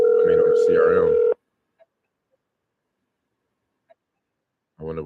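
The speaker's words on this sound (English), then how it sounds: "Oh, it's ringing on my web. It's ringing on the website." A phone ring comes through a website CRM as a single steady tone burst lasting about a second, followed by silence and then a voice starting up.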